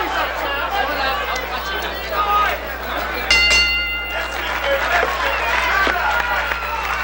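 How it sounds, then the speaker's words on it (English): A boxing crowd at a fight roars and murmurs in a steady arena hubbub, with a brief swell of cheering and scattered claps, all running beneath a commentator's continuous talk. "the crowd likes it here"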